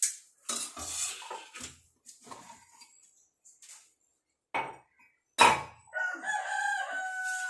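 A rooster crows toward the end, a drawn-out harmonic call following scattered clucks and clattering pots or dishes nearby, with a few short gaps of quiet between the sounds.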